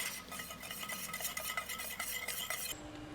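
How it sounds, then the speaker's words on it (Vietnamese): Spoon stirring 300 ml of water with sugar and a tablespoon of tapioca starch in a pot, for Thai-style chè: a steady scraping, clinking swirl close up, with no talk. "Rồi và mình sẽ khuấy đều cái phần này lên cho đường nó tan ha."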